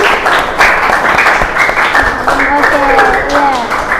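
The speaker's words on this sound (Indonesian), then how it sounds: "Silakan tepuk tangan." A fifth-grade class in a madrasa classroom claps together, a steady, dense patter of many hands that runs the whole time with voices mixed in.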